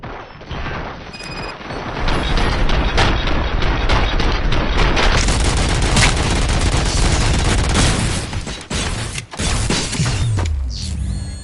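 Gunfire in the Robocop video game comes as a loud, sustained barrage of rapid shots and booming blasts, dense and close, filling the scene for several seconds with a few brief gaps and no talking.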